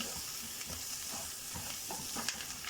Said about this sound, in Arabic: وديت رشه بسيطه كده من الفلفل الاسمر على البصل وهو بيتشوح